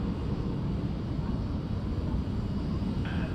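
A departing Qantas airliner at Sydney Airport, heard as a steady, loud, broad engine roar that holds throughout without a break.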